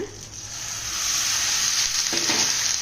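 Chicken pieces coated in ginger garlic paste fry in a hot pan, a steady dense sizzle that swells slightly as the meat is stirred, with no voices over it.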